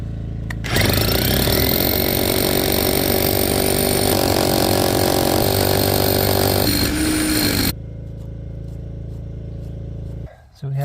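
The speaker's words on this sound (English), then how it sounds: "Always try to keep your hammer drill as level as possible so you drill a straight hole" A hammer drill bores a hole through a house wall during a water well and pump installation, a loud continuous grinding roar for about seven seconds that cuts off abruptly, leaving a low hum and a brief knock.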